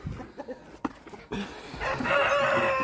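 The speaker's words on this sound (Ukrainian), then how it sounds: "Кури зараз мені на голову тут повилетають" Hens cluck in short bursts, then a rooster crows loudly and close by, its long call holding steady over the background.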